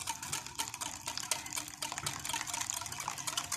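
A custard of half a litre of milk, three whole eggs and an extra yolk is poured into caramel-lined ramekins for crème renversée, making a close, continuous splashing, trickling flow.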